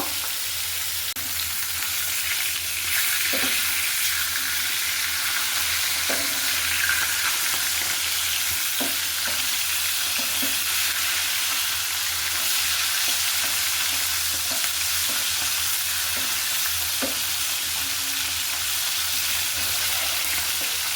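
Stinging catfish pieces fry lightly in a pan for a bottle-gourd fish curry, giving a dense, even, loud sizzle throughout with faint occasional clicks of a utensil, and no voices.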